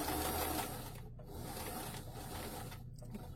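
Sewing machine running a steady stitch along a fabric seam allowance while reinforcing a garment front, a continuous close whirring hum with brief slowdowns.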